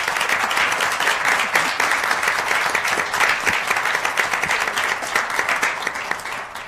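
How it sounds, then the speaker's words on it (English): A sustained round of applause from the audience at a University of Minnesota Board of Regents meeting honors Chancellor Johnson, dense steady clapping filling the room with little talk. "Chancellor Johnson, we want to again thank you for your 10-year efforts at the University of Minnesota Morris with a round of applause and appreciation."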